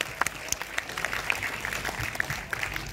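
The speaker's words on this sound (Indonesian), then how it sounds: "Beri tepuk tangan sekali lagi yang sangat meriah untuk people behind the movie dan para cast" Audience applause at a film gala premiere, a scattered patter of clapping with sharp individual claps standing out over a steady crowd background, moderately loud and continuous.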